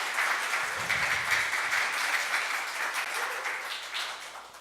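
Sustained audience applause filling a city council chamber during a session, dense, steady clapping that fades slightly toward the end, with no talk over it.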